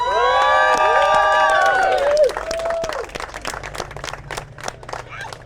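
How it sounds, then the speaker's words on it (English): An audience cheers loudly with high whoops and shouts over clapping for award winners, the cheering dropping off after a couple of seconds while scattered applause continues. "I would just like everybody to give a warm round of applause to our 3 members of the year."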